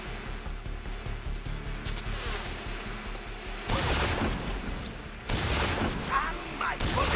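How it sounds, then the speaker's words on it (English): In Metal Gear Solid 3, a grenade blast and gunfire break out as two loud bursts of booms and crackling shots over a lower rumble of battle, with voices around them. "Grenade!"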